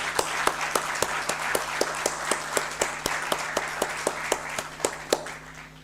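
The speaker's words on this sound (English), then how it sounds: "Let us clap for him." An audience at an association's annual general meeting claps in a sparse, uneven patter, individual hand claps standing out sharply over a steady low hum and room noise.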